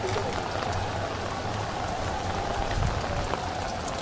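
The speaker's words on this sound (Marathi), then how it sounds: "खूप पाऊस पडतो आहे सकाळपासून कंटिन्यू पाऊस पडतो आहे" Heavy rain pours steadily and loudly throughout at the Mahakal temple in Ujjain, a dense continuous wash of drops with a faint low rumble underneath and no voices.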